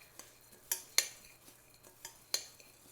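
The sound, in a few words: mixing topping for sheet pan salmon in a bowl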